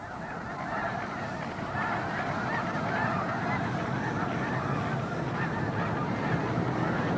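A flock of geese near Vancouver airport honks continuously, with many overlapping calls forming a dense, steady chorus.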